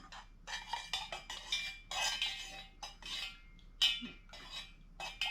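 A utensil stirs a pot of hot candle wax, producing a series of close, irregular metallic scrapes and light clinks in quick bursts with short pauses between them.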